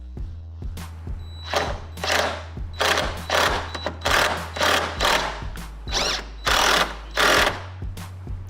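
Socket wrench ratcheting to tighten a bolt fitted with a washer in a garage, a series of rapid metallic clicking bursts in uneven strokes, close and fairly loud over a steady low hum.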